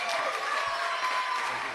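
A church congregation claps for Gilberto, a dense wash of applause held steady throughout with no clear speech on top.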